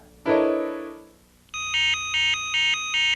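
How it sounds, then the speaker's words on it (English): The Bat Phone rings with four evenly spaced electronic ring bursts, loud and alone, after a brief falling harmonic tone at the start. "It's the Bat Phone!"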